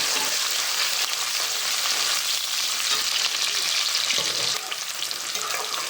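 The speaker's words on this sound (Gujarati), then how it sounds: "હવે આપણે નાખવાનું છે ડુંગળી. જોઈ શકો છો 1 કરી ડુંગળી લીધી છે આપણે. સરસ ડુંગળી એડ કરી દીધી." Chopped onion added to garlic already frying in hot oil for a mixed curry, a loud dense crackling sizzle that runs steadily throughout, close up with no voices.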